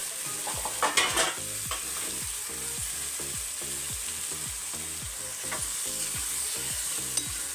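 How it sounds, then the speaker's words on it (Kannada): Sprouted grams fry and sizzle in a pan for a North Karnataka sprout sambar, under a steady hiss with regular low thumps and scrapes of stirring, close and fairly quiet. "ಇದನ್ನು ಬಳುವತನ ಹಸಿ ವಾಸನೆ ಹೋಗುವವರೆಗೂ ಫ್ರೈ ಮಾಡಿರಿ"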